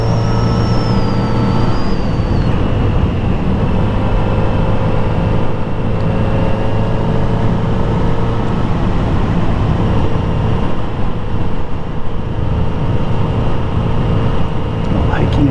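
A Kawasaki Z900RS motorcycle cruises along a West Virginia back road near Baker, its engine holding a steady, droning hum under continuous wind rush for the whole stretch, close and fairly loud.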